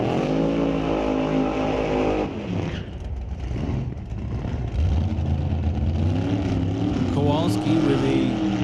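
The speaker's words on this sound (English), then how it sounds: "when you hear Kowalski fire up his car" A drag racing car's engine idles and revs loudly at an NHRA sportsman drag racing event in Canada, a deep rumbling drone that rises and surges, with an announcer talking over it.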